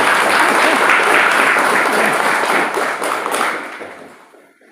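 A crowd claps loudly and steadily for a few seconds, then the applause gradually fades out.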